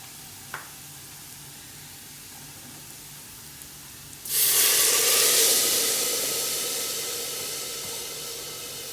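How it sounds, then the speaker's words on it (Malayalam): After a few quiet seconds, one and a half glasses of water hit a hot pan of garlic butter rice with a sudden loud sizzling hiss that slowly fades as the steam settles. "ഒന്നര ഗ്ലാസ് വെള്ളം ഇതിലേക്ക് ഒഴിക്കാൻ പോവുകയാണ്"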